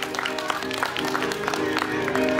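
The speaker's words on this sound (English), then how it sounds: "give them a huge round of applause" Applause at a car stunt show breaks out from the audience as a short burst of dense clapping, fairly close and continuous, with some crowd noise mixed in.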